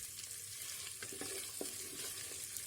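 Chopped tomato fries in a pan with sautéed ginger and garlic, a quiet, steady sizzle with a few soft stirring knocks, faint and close.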